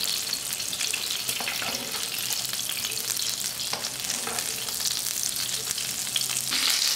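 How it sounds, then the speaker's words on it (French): Duck breast frying skin side down in a very hot pan, giving a steady, dense sizzle and crackle of spitting fat that carries on without pause. "Dans une poêle bien chaude, faites cuire le magret. On va commencer côté peau, environ 5 minutes."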